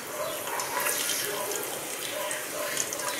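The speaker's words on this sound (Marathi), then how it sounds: "आता ह्यातून मी पाणी गाळून घेते." Water pours and splashes steadily as it drains from a pan, a continuous rushing sound at close range.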